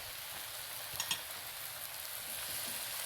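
Potatoes tossed into eggplant frying in a pan give a steady hiss of oil, with a couple of soft knocks from stirring near the start, close by and with no voices.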